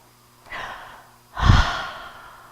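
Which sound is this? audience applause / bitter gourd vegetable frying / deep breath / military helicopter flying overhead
deep breath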